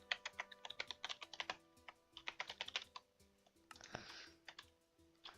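Quick bursts of computer-keyboard typing while entering sign text in Minecraft, with rapid clicky keystrokes in two clusters, a brief pause, then a softer rustling push and a few final taps.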